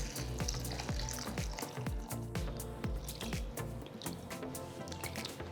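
Raw rice with urad, chana and toor dal washed by hand in a bowl of water: repeated close swishing and sloshing, with rhythmic drips and splashes and no talk.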